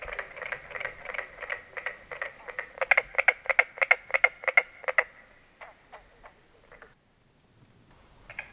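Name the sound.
carpenter frog calling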